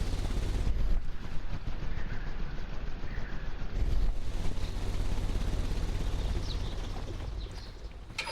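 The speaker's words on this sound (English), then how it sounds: "The ventilation system is working." A ventilation system runs in the Sherlock Holmes Crimes and Punishments video game, giving a steady, airy whoosh with a low rumble underneath that swells slightly partway through and continues without pause.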